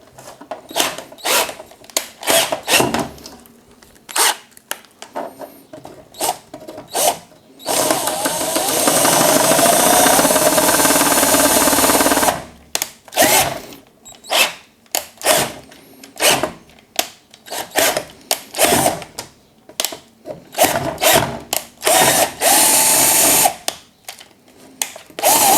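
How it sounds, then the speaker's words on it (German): A power drill with a 10 mm bit re-drills a hole during a mounting job, running in short on-off bursts, then a sustained loud grinding stretch, then more brief pulses, close and with no talking. "Und bohre nochmal mit dem 10er Bohrer nach."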